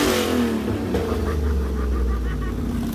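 A 1966 Chevrolet C10 pickup's engine revs hard and holds near the rev limiter, a loud, continuous close-up roar with a rough low rumble and steady harmonic drone throughout.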